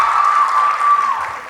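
A short burst of audience applause for teachers at a 2019 high school graduation ceremony, clapping muffled under a sustained steady tone that runs through most of the moment.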